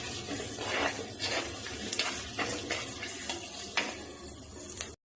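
Onions frying with ginger-garlic paste in a pan, a soft continuous sizzle with occasional scrapes and stirs of a spatula against the metal, close and moderately quiet, ending abruptly.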